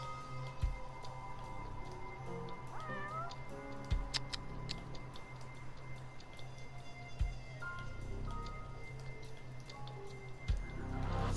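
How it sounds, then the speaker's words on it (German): A cat in the video game Judgment meows once, faint and somewhat distant, against steady city ambience with soft periodic ticking thuds and a low background hum. "Hier war gerade wieder eine Katze."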